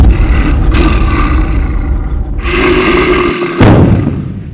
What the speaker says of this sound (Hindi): ये आवाज इसी भालू की थी